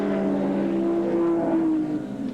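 A touring car at the 1991 Australian Touring Car Championship round at Mallala circuit roars loudly down the back straight, engine note holding steady and then dropping in pitch as it nears the end of the straight.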